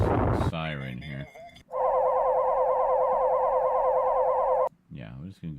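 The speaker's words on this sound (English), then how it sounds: "I think I was just gonna go with this siren here." A siren sound effect picked during video editing plays as a loud, steady electronic wail with a rapidly warbling pitch, starting abruptly and cutting off after about three seconds, with a person speaking briefly before and after it.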